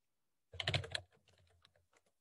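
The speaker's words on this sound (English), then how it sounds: "This is the sound of somebody typing on a keyboard." A quick burst of keyboard typing, several rapid clicks up close, then a few lighter scattered keystrokes trailing off in a quiet room.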